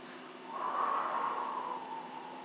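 A long, steady breath out during a Pilates floor exercise, close and fairly soft, swelling and then tapering over about two seconds with no talking.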